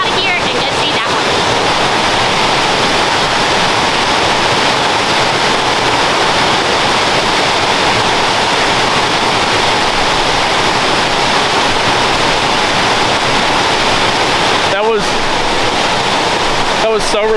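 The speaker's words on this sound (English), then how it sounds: "It's a beautiful waterfall, definitely worth seeing." A 70-foot waterfall in North Carolina roars continuously and loudly, a dense, close rushing wash of falling water that fills the whole clip.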